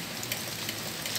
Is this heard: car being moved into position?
no